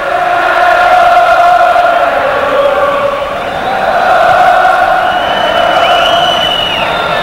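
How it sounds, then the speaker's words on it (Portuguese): Boca Juniors supporters at La Bombonera stadium in Buenos Aires roar and chant in unison during a Copa Libertadores semifinal against América of Mexico, a loud, sustained, sung wall of crowd noise. "Vamos sentir a energia da torcida do Boca mais uma vez."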